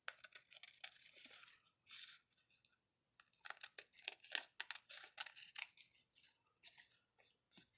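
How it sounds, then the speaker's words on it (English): Close, quiet scissors snip tissue paper repeatedly in irregular bursts, with light papery crinkling between the cuts and a brief pause partway through. "turn it over with your scissors and just cut away the edges"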